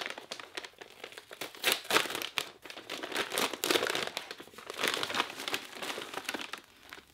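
A kraft paper envelope is handled and crinkled up close, giving a steady run of dry rustling and crackling with sharper bursts of crumpling throughout.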